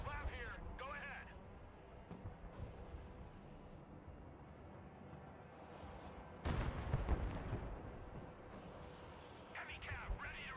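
MLRS rocket artillery fires in the Broken Arrow war game. Booms rumble under nearly constant voice chatter, with one sharp, loud burst of fire about two-thirds of the way through.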